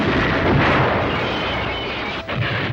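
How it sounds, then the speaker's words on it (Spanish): Two helicopters blow up in a cartoon, heard as a loud, rumbling burst of explosions that roars for a couple of seconds and then crackles and fades, with no voices. "la increíble fuerza de las explosiones cuando los dos helicópteros estallaron"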